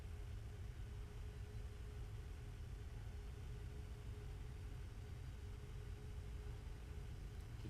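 An aircraft auxiliary power unit spins up with a steady, loud, unbroken rumble, a low roar topped by a faint constant whine that holds through the whole stretch.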